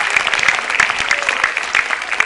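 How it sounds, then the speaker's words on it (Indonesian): A large studio audience at a stand-up comedy show breaks into loud, dense applause, a continuous wash of many hands clapping close and steady throughout. "Tepuk tangan buat Metro TV."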